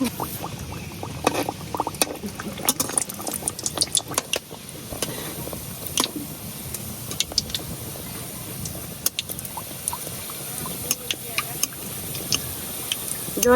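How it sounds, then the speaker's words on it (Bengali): A dal puri slips into gently heated oil in a wok and fries up close, with scattered sharp pops and crackles over a steady low bubbling hiss. "তেল হালকা গরম হয়েছে এখন আমি দিয়ে দিই একটা পুরি"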